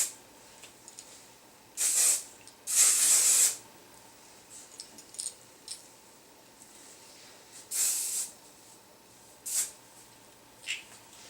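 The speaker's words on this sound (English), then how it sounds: "Take a little hairspray." Kenra volume hairspray hisses from an aerosol can while hair is styled: two sharp bursts, the second longer, then a few shorter puffs spaced apart, close and crisp against a quiet room.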